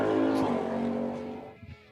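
A car sound effect with tire squeal plays as a short, loud screech and engine sweep that fades out over about two seconds, with a faint voice at the tail.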